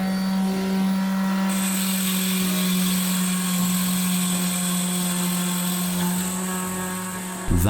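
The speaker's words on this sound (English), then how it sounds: "First, I tried with a small sander." A small sander grinds against a graphics card heatsink with a loud, steady, high whine that holds constant for several seconds before cutting off abruptly at the end.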